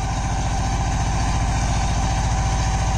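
A Mahindra JIVO 225 DI two-cylinder 22 HP 4WD mini tractor idles close by with a steady, low, pulsing diesel throb, running evenly and alone throughout.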